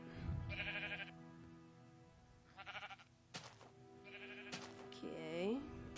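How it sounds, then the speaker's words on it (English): Sheep bleating in a video game, several short separate bleats spaced across the clip over a quiet game backdrop, with a couple of sharp knocks mixed in. "and we're gonna kill these sheep around me."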